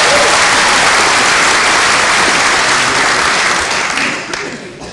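A crowd at a juggling show bursts into loud, sustained applause close by, the dense clapping holding steady before thinning out near the end.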